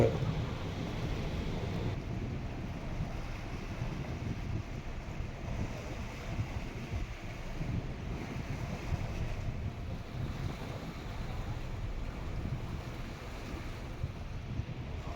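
A small tender boat out at sea, with a steady wash of wind and water rushing around it and no clear individual events, continuous and fairly close throughout.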